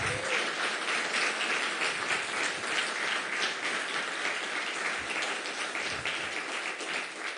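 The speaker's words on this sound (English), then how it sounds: "please give it up once more for our dear Nathalie" A conference audience at a game developers' gathering claps for keynote speaker Nathalie Lawhead, producing a steady, full wash of applause that holds for seven seconds without dying away.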